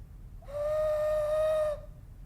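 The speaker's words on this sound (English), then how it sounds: "And I got a working whistle, okay?" A small clay whistle is blown once, a steady bright tone held for about a second, close and clear against a quiet background.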